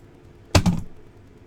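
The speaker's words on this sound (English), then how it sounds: "My mouse is clicking twice sometimes." A computer mouse button clicks twice in quick succession, sharp and close, against a faint quiet background.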